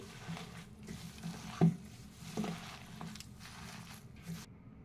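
Ingredients for pumpkin leaf fritters are kneaded together by hand, producing soft, intermittent squishing and squelching close by, with a few sharper wet pats.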